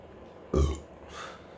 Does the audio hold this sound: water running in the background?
no